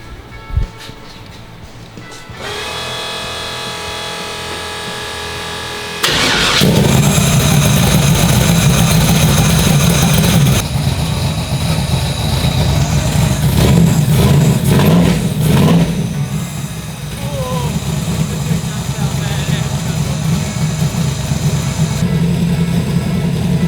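A turbocharged Chevrolet Nova engine cranks briefly and then fires, settling into a loud, rough idle with repeated revs that rise and fall close by.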